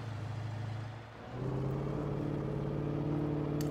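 Truck engine in the video game Alan Wake, a steady low drone that dips briefly and then surges back unevenly, as if sputtering and straining for fuel, heard alone without talk.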